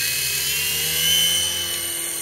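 A Titan T505 RC helicopter spools up for its first takeoff, its rotor giving a steady, close, high-pitched whirring drone that swells slightly midway through, with no talking.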